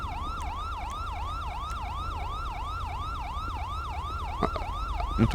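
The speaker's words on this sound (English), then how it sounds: "why don't they go away with that siren, man?" A police siren in a video game wails continuously in a fast repeating yelp, steady and fairly prominent over a low engine rumble.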